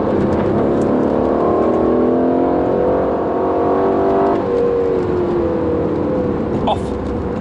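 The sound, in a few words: 2018 Aston Martin Vantage accelerating on race track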